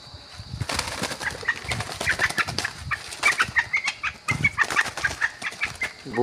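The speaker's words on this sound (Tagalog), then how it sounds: "Inahing labuyo." A wild junglefowl hen clucks in short repeated bursts, mixed with loud flapping and rustling of wings close by, busy and agitated throughout.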